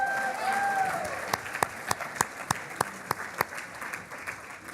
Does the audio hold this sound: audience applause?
yes